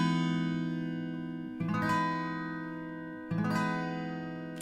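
Acoustic guitar with a capo sounding a C-shape chord with a G root, strummed from the fifth string down, ringing alone and steady with two fresh strums midway.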